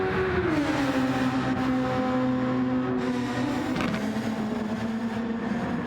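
Racing cars running side by side down to turn 1 at Monza in the Project SF1 racing game, a steady loud engine drone with a pitch that drops slightly and then holds, and no voices.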